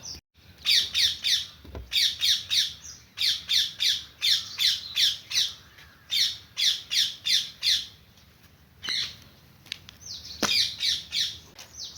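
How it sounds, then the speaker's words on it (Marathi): Two parrots squawk in quick rhythmic bursts in the morning, harsh repeated calls in clusters with short pauses, fairly close against a quiet background. "इतके छान पोपट चव चव करते"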